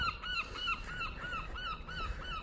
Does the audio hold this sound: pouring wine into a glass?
no